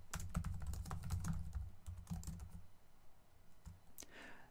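Computer keyboard typing while writing Excel VBA code: rapid, close clicking keystrokes in quick runs, thinning out into a few scattered taps toward the end.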